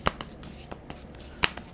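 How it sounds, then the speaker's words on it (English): A deck of tarot cards is shuffled by hand in a handful of quick, soft riffling snaps with uneven spacing, close and fairly quiet, with no voices. "Pardon the shuffle"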